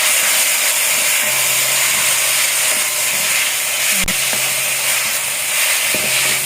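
Fish and grated tomato fry in a pan for an Assamese tangy fish dish, a loud, steady sizzle and hiss throughout, with one brief clank of a utensil.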